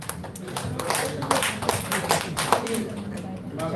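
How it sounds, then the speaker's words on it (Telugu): Hands clap at a South Indian success seminar, a run of sharp, close claps with an uneven rhythm and fairly dense hits, heard over the hum of the room. "చప్పట్లు కొట్టాలి, సౌండ్ వస్తుంది."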